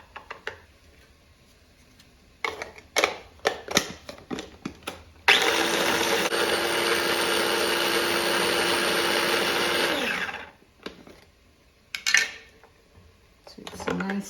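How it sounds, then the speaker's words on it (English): A kitchen blender pulses green chilies in one loud, continuous whirring burst of about five seconds, preceded and followed by clattering clicks and knocks of handling. "and 4 green chilies. Add them and pulse them together."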